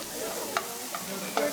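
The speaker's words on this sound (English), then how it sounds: "You saute your chicken first. This needs to be sizzling" Chicken sautéing in a pan at a school cooking class, a steady close sizzle with a few sharp stirring clicks scattered through it.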